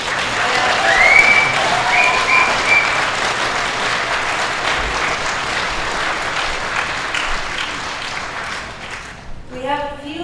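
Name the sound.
audience applause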